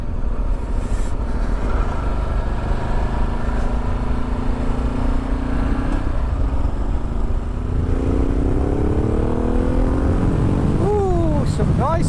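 A Ducati Multistrada 1260 S with a full Termignoni exhaust system being ridden: a steady, close engine drone climbs and falls in pitch with the revs, under constant wind rush.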